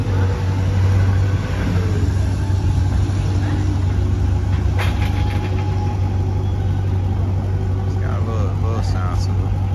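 A Jeep Grand Cherokee SRT8 with a muffler-delete exhaust idles with a steady, loud low rumble while someone talks over it.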